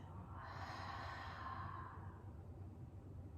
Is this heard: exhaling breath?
yes